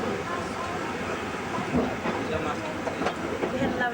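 Double-header climb by steam locomotives W945 and W903 on the Hotham Valley Railway, heard as a steady rumbling train with faint rhythmic clatter and hiss, moderately distant, under a low background murmur.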